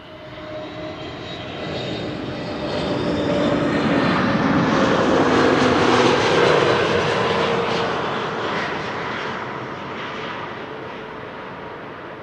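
An SAS airliner landing at Amsterdam Schiphol swells from a distant rumble into a loud, broad engine roar overhead, with a whining tone shifting in pitch, then fades away; no voices.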